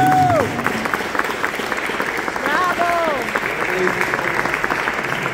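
An audience at a Venezuelan independence proclamation ceremony in Jersey City gives a sustained round of applause, with voices and a few whoops heard through the clapping.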